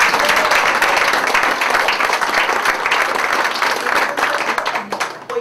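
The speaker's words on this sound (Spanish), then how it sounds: "Quiero que se pongan de pie las invitadas para que le demos un fuerte aplauso." Audience applauding for invited guests at a Mary Kay meeting, dense sustained clapping from a crowd, loud and steady, thinning slightly toward the end.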